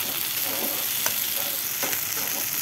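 Rice and potatoes frying in a pot as the start of khichuri, a steady close sizzle with a few soft stirring scrapes and no talk.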